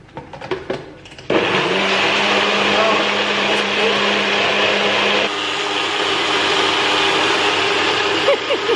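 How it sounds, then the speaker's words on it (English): Blender whirring through a yogurt, vanilla and raspberry drink: a voice and some handling noises, then a loud, steady motor roar that holds to the end with a slight shift midway. "Let's blend this up."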